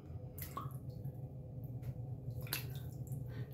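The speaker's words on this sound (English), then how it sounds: "So we're going to wet" A shaving brush being wetted with water before lathering an almond shaving cream, giving soft close drips and squishy splashes over a low steady hum, with no talking.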